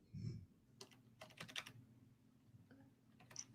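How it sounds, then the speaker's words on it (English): Typing on a computer keyboard, quiet bursts of clicking keystrokes in short irregular clusters, close by and faint, with no voices. "I still hear typing."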